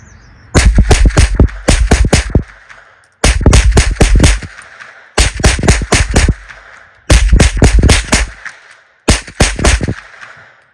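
A German Sport Gun StG 44 reproduction in .22 rimfire fires five loud, close bursts of rapid sharp cracks, each burst about a second long and separated by brief pauses.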